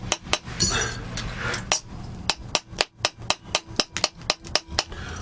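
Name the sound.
small hammer tapping metal for turtle brooches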